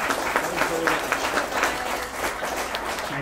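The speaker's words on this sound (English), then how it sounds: "Huge round of applause" Applause from an audience at the end of a world-building talk at a book festival, a steady patter of clapping hands lasting a few seconds at moderate volume, with voices faintly mixed in.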